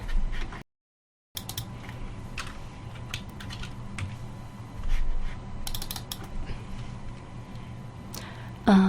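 Scattered keystrokes tap on a computer keyboard as a name is typed, a few quiet clicks spread over a low steady hum, with a brief dropout of silence early on.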